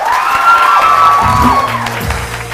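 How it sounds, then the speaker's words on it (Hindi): A studio audience on a television morning show claps and cheers loudly, a dense crowd roar with whoops and shouts rising and falling over a couple of seconds. "ओके वो लोग जो ही समझते हैं शानी जीता है वो तालियां बजाएं"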